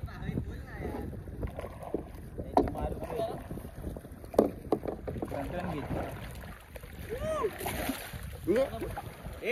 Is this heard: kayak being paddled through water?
yes